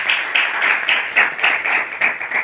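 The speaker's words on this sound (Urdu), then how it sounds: "زوردار تالیاں بجائیں گے" Loud, steady applause from a church congregation, many hands clapping in a dense, continuous patter with small swells throughout.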